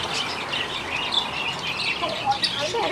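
Small birds chirp in a pet shop that also holds pigeons. The brief, high tweets are scattered over a steady shop hubbub.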